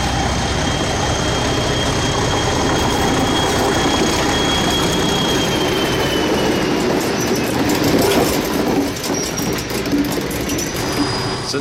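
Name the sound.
restored diesel locomotive DI-1102 train on rails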